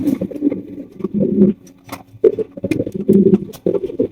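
Pigeons at an exhibition pigeon market coo and rustle close by in repeated bursts, with shuffling and fluttering between the calls.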